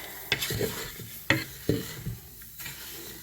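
A loose-leaf tea blend is mixed by hand, giving a close series of irregular rustling scrapes and light knocks against a container, several distinct strokes separated by short pauses.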